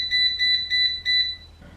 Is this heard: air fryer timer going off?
yes